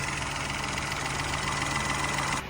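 A Citroen 1.2 PureTech petrol engine idles steadily after an oil pump replacement, a close, even mechanical hum with a light rhythmic tick and no voices, cutting off abruptly at the end.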